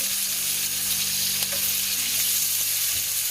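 Chicken pieces for creamy garlic chicken frying in a hot pan, a steady dense sizzle with crackle and a few soft clicks, loud and close with no talking.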